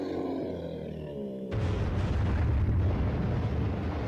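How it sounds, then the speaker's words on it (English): In the Metroid Prime video game, the rock boss Thardus collapses: a tonal, groaning rumble gives way abruptly to a loud, sustained explosive roar of crumbling debris that keeps going to the end. "Thardus utterly collapses, and Samus quite rightly runs out of the way as it sort of explodes."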